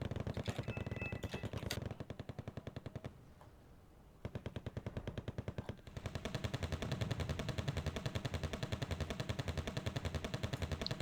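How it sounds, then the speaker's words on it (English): Rapid machine gun bursts from a mobile machine gun nest in the war strategy game Wargame Red Dragon, long sustained rattling strings of shots with a brief lull midway, then continuous fire to the end. "Mobile machine gun nest."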